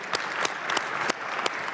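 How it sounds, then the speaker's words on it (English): A conference audience applauds panelists at a plenary session, a dense steady patter of many hands clapping with a few louder claps standing out, close and continuous. "Can we give a nice round of applause to our panelists"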